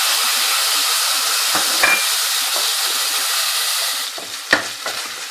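Tomatoes drop into whole garam masala and spices frying in hot oil, producing a loud, close, continuous hiss and sizzle with a couple of brief stirring scrapes, and no speech.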